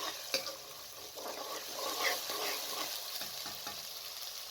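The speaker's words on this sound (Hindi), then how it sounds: "अच्छे तरीके से प्याज को भून लें।" Onion paste sizzles in a pan with cumin while it is stirred for Lahori chanay. There is a soft, steady frying hiss with occasional scraping stir sounds, close but quiet.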